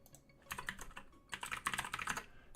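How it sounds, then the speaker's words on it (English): Quick bursts of keystrokes on a computer keyboard, close and fairly quiet, arrive in uneven clusters with short pauses between them and no talking. "So, what I want to do is I want to type in destination."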